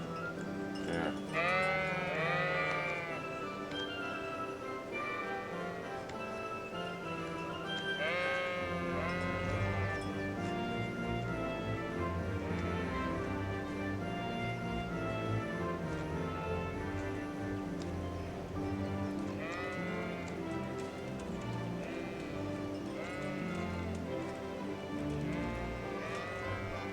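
A flock of sheep in Kingdom Come: Deliverance bleats again and again over a constant farmyard ambience, the wavering calls overlapping and fading at varied distances throughout, while faint ticking runs underneath and no one speaks.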